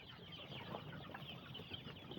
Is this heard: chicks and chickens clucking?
yes